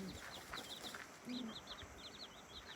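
Chicks peep in quick high chirps while a mother hen gives a low cluck, all faint and close together in a quiet coop.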